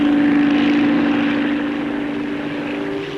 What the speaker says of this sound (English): Helicopters showing their paces included the Bristol Type 173. This is a twin-rotor tandem engaged in flight research.